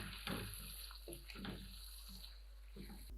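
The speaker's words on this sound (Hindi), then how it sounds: "मैंने एक बड़ा बाउल इसमें पानी डाला है, इसे मैं मिक्स कर लूँगी" Water pours from a tap into a cooking pot of lightly fried peas and potatoes for an aloo matar gosht curry. A quiet, continuous splashing stream is heard with a few faint clinks.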